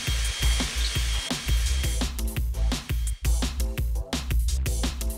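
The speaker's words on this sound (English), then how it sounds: "Switch to a 1/2 inch bit and widen the hole." A power drill fitted with a 1/2 inch bit widens a hole in a railing during an awning motor installation, running in loud, rough repeated bursts that start and stop in a steady pulsing rhythm, with no talk.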